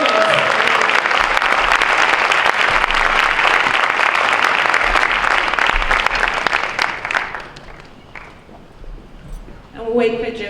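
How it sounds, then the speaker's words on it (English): An audience at the 2015 African Diaspora Awards ceremony claps loudly, with dense, sustained applause that gradually thins and fades out, and a voice speaking at the very end. "Round of applause."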